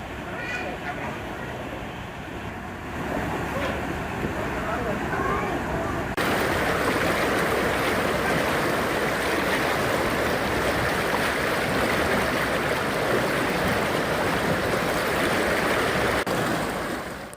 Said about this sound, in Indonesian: Banjir disebabkan oleh meluapnya aliran Kali Sunter yang melintasi permukiman warga.